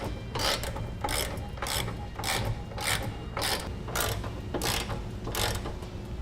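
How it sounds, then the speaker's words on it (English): A hand ratchet tightens four flange nuts while a Curt trailer hitch receiver is installed on a 2009 Ford Edge. It gives quick bursts of rapid clicking in a steady back-and-forth rhythm, close and crisp, with no voices. "Next we'll go ahead and tighten down the 4 flange nuts."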